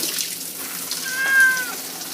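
A single short cat meow, fairly faint, rising over a steady hiss of running water.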